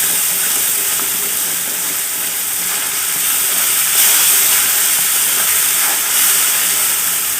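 Mustard seeds fry in a pan for chutney, giving a steady, loud hiss and sizzle with no voices.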